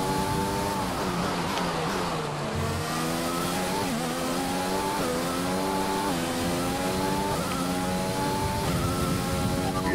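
Race car engine in the F1 2020 video game, revving and accelerating continuously with repeated rising pitch sweeps through gear changes, loud and steady throughout.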